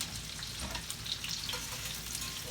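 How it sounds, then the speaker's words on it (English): Onions and mushrooms sautéing in hot oil and meat drippings for Salisbury steak gravy, a dense, steady close-up sizzle with faint crackles and no talk. "I'm gonna saute my onions in here"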